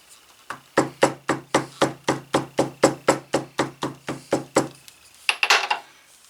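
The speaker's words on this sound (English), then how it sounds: "want to just tap that stitch down" An old hammer taps down the stitching on a leather Finnish Luger holster, with about sixteen evenly spaced sharp, close knocks in a steady rhythm, then a brief scuffling clatter.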